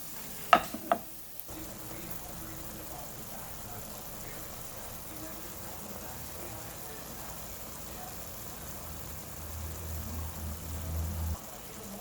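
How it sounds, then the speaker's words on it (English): Chicken and shrimp fry in a pan with a soft, steady sizzle, after a few sharp clatters at the start and a low rumble of tossing and stirring later, all fairly quiet and close. "I've added my chicken and shrimp and I'm gonna toss that up for about 5 to 8 minutes just until cooked"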